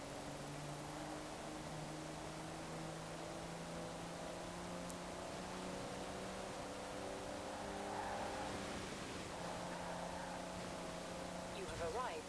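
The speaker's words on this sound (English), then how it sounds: "I'm just going to let you listen to the engine of this car first," A 1992 GMC Typhoon with a V6 engine in Forza Horizon 4 holds a steady, droning mid-rev hum, with the pitch lines rising briefly toward the end.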